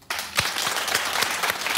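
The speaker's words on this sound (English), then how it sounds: "Just clap if you like it." A studio audience on The Wendy Williams Show breaks into applause after a brief quiet start, many hands clapping at once in a full, sustained burst with a few sharper claps standing out.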